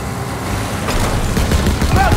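Gunfire during a vehicle chase in Call of Duty: WWII: repeated loud shots over a rumbling engine, with shouted voices mixed in.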